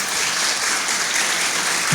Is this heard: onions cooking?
no